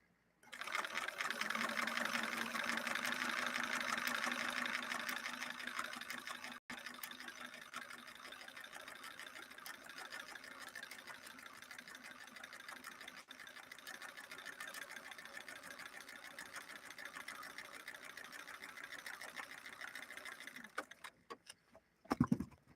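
A Bernina Record 930 Electronic sewing machine stitches a decorative pattern in one long continuous run, steady and close with a lengthened stitch, stopping near the end with a brief clatter.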